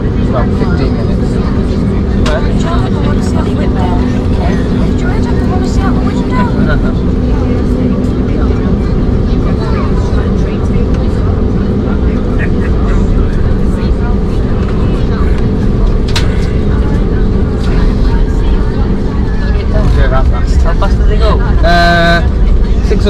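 A Jet2 Airbus A321neo taxiing out before takeoff, heard from inside the cabin as a steady, loud engine and cabin rumble that continues throughout, with faint passenger chatter underneath.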